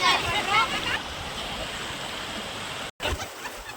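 Water overflowing Aliyar check dam pours down as a waterfall, a continuous close-up rushing hiss that stays steady throughout, broken only by a momentary cutout near the end.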